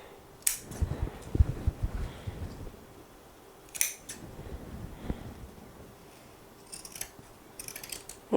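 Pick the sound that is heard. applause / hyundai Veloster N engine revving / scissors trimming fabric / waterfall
scissors trimming fabric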